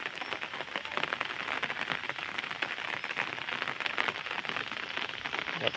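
Steady rain falls on surfaces in a village after an all-night downpour, a dense, even patter of drops with no break and no voices.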